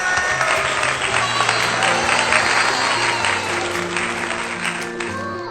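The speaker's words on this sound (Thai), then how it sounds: "ปรบมือให้แจนหน่อย" Children in a Thai school classroom applaud a classmate during a lesson on plant parts, a steady close patter of small hands clapping over a few seconds with sustained tones beneath.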